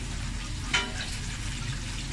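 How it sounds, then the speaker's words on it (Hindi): Chicken pieces frying in a pan with garlic, a steady close sizzle and bubbling throughout with one brief louder spatter. "चिकन जब वो फ्राई हो रहा है"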